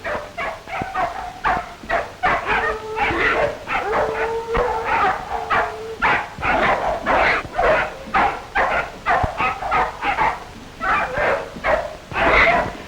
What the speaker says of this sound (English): 5 yelping puppies pitted against him